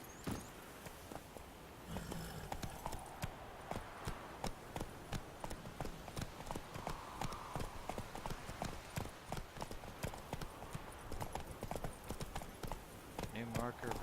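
Geralt's horse Roach gallops in The Witcher 3, a rapid, even clip-clop of hooves pounding without a break, loud and near, with a voice talking over parts of it.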